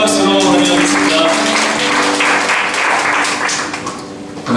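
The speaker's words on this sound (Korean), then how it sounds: "큰 박수로 환영하겠습니다" An audience at a Korean church worship service claps loudly and steadily, a dense wash of applause that stays strong throughout and eases slightly near the end, with no talk over it.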